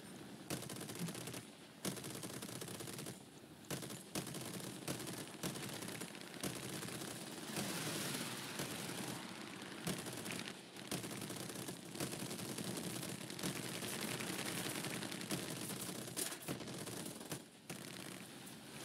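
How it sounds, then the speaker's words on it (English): Bursts of machine gun fire from biplanes in the video game War Thunder rattle in repeated volleys with short gaps, fairly even in loudness and without talk. "don't know who's shooting at this person, but they're not really good at aiming"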